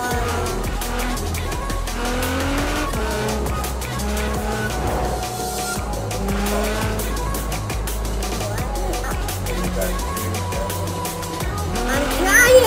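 Forza Horizon 4 video game car drifting, with Lego Speed Champions cars on track: a steady engine drone with shifting pitch and tire squeals, under game music, with people talking through it.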